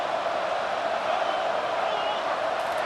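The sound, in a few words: stadium crowd noise in EA Sports College Football 25 video game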